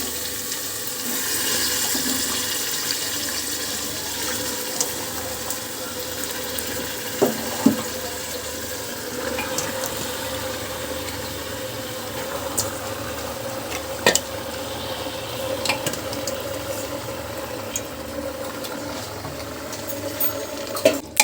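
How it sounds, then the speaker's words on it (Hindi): Mutton, 1.5 kg, frying with whole spices in a pan, a continuous loud sizzle with occasional sharp clinks and stirring scrapes, no talking. "ये देखिए मटन हमारा फ्राई हो रहा है"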